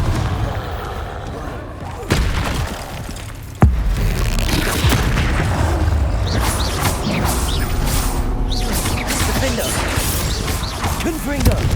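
Repeated Confringo blasting-curse explosions in Hogwarts Legacy, sharp booms and crashes ringing out amid spell effects and clattering debris, with a voice speaking briefly over the loud, busy fight.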